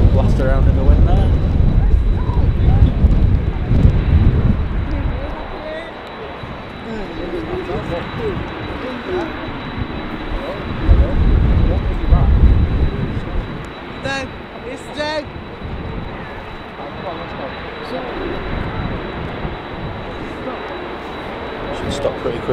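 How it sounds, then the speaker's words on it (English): A Loganair ATR 72 turboprop at Manchester Airport roars loudly and continuously in gusty wind, its engine drone swelling and fading, with people talking nearby at times. "It's a Loganair ATR 72."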